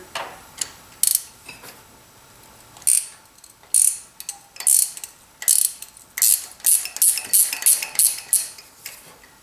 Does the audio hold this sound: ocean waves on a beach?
no